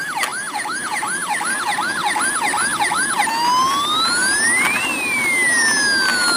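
Ambulance siren wailing loudly and continuously, a rapid yelp cycle shifting into slower rising and falling wails over road noise, with a second siren tone layered in the background.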